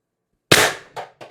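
An IntruBuster Gen 2 launcher fitted with a Critical Situations Titan IB-2 drum magazine fires one sharp, loud crack from silence, followed by two fainter echoing thumps in quick succession.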